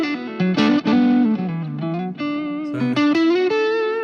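An electric guitar is played through overdrive and distortion, with sustained, gritty notes and bends ringing out loudly and a brief spoken word at the start.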